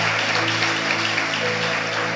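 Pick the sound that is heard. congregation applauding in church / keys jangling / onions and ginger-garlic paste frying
congregation applauding in church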